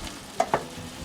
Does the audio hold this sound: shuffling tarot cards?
no